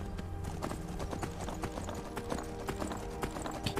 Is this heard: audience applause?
no